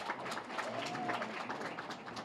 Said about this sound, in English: A round of applause for our winners again.